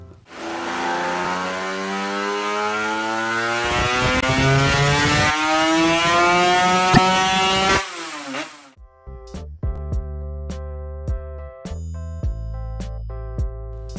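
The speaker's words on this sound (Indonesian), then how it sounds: "Ini adalah motor legenda Yamaha yang bermesin 2 tak. Dan nggak sampai itu aja, mesinnya udah 2 tak V4 lagi" A Yamaha RZ500 two-stroke V4 motorcycle revs hard, its loud, rising wail building for about eight seconds before cutting off into choppy, intermittent bursts.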